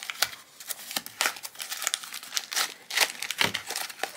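Taped cardboard packaging of a Disney blind box holding trading pins is pulled open, giving close, loud crinkling and tearing in rapid irregular bursts over several seconds.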